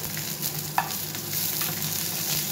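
Black cumin, a dried chili, garlic and onion fry in oil with a dense, close sizzle, and one sharp clink of a utensil cuts through the brief burst.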